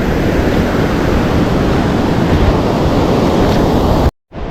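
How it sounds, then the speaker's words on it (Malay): Sea waves break at low tide beneath a cliff on a fishing spot, a loud, continuous roaring wash of surf with steady rushing noise, briefly cut to silence near the end. "ini lagi gerak air surut, jadi gelombangnya agak besar ya"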